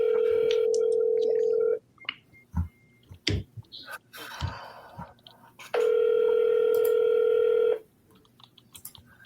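A phone call rings out over a speakerphone: two long, steady ring tones separated by a gap. The gap is filled with clicks, rustling and scattered mouth noises close to the phone.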